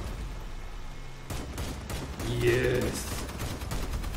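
A 20mm autocannon fires in the Crossout vehicle combat game, a rapid string of loud gunfire bursts, with a player excitedly shouting over it.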